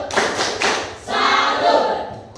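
A classroom group of teachers claps together in rhythm, a loud burst of a few sharp claps followed by a steadier stretch of quieter clapping.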